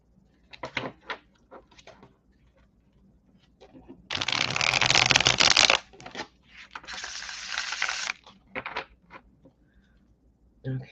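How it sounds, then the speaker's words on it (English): Tarot cards from a Wizard's Tarot deck being shuffled by hand: quick soft riffles and taps, then two longer, louder bursts of rapid riffling close up, with light handling sounds in between and no talking. "I'm going to give it a shuffle."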